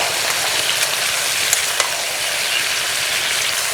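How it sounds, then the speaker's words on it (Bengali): Chicken pieces sauté in oil for a Bengali chicken curry with cauliflower, giving a loud, steady frying hiss that continues throughout with a few faint clicks. "মাংস কষানো প্রায় হয়ে গেছে, সুন্দর একটা গন্ধও ছেড়ে দিয়েছে।"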